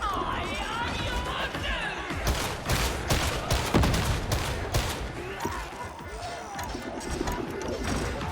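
Dense gunfire fills a chaotic firefight in Warhammer 40,000: Darktide, with rapid overlapping shots and crashes running throughout, loud and close, while voices shout over the combat.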